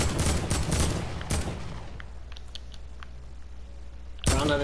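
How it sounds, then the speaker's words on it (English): Fortnite gunfire in a squad match: a rapid burst of shots at the start, another at about one second, then scattered faint pops and a quieter stretch before a final loud burst near the end. "Start shooting at him!"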